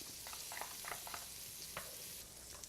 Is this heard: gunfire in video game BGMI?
no